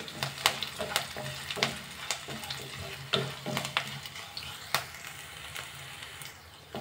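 Ginger, dried chilli, curry leaves and cashews fry in a pan on low flame for oats upma, a soft steady sizzle broken by sharp spoon clicks and scrapes as they are stirred.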